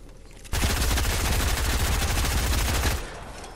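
Sustained rapid gunfire in the video game Fortnite, a dense loud burst of shots lasting about two and a half seconds before cutting off abruptly, with no talk over it.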